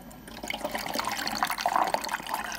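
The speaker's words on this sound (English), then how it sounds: "So grab one of the jugs and you just pour water" Cold water poured steadily from a jug into the reservoir of a coffee machine at a lodge in Aviemore, a continuous close splashing trickle lasting a few seconds with no talk.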